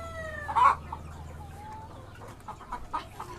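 KUB chickens on a poultry farm cluck nearby, a loud squawk early on followed by scattered softer clucks and calls over a low steady hum, with no talking.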